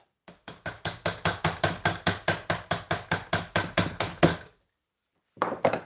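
A mallet strikes a Robert Sorby chisel in woodworking: about twenty close, even, rapid knocks in a steady rhythm, then a brief pause and a couple more blows.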